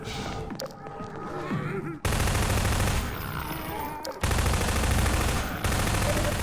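SMG fire at zombies in the ChasmVille video game, dense sustained automatic bursts that roar loud and close, split by short pauses, with game ambience between the volleys.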